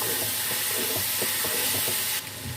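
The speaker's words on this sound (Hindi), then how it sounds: "अदरक, टमाटर, सब्ज़ मिर्च को हम मिक्स कर लेते हैं।" Ginger, tomato and green chillies are stirred in a hot pot, a constant loud sizzle with soft scraping strokes repeating every fraction of a second, no voices.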